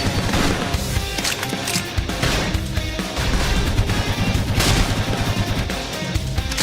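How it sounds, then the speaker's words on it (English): Rapid bursts of gunfire crackle loudly and continuously in Xenoblade Chronicles X Definitive Edition, with sharp impacts and a busy game-like mix underneath, no voices heard. "Now topple them with some gunfire."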